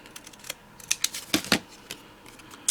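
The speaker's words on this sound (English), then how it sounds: "I almost cut evenly too." Scissors snip through cardstock for handmade fall and Halloween cards, a string of short, sharp, irregular cuts close by, with a couple of louder clips in the middle.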